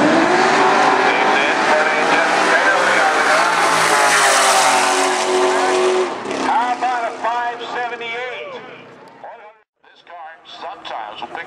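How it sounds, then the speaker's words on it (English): A drag racing van with a high-speed roof extension runs at Irwindale's eighth-mile strip. It makes a loud, sustained engine roar that fades after several seconds, and a voice talks over the fading sound. "He goes drag racing here at Irwindale"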